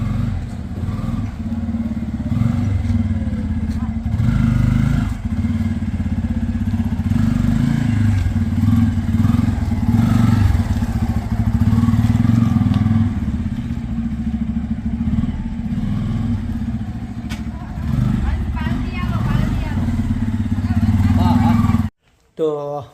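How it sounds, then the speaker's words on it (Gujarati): A Bajaj Pulsar N250 250cc motorcycle engine runs steadily while riding, a constant near hum with wind and clatter over it, ending in a brief drop to silence near the close. "મસ્ત મજાનું બાઇક હતું અને પલ્સર N 250 સીસીનું મિત્રો"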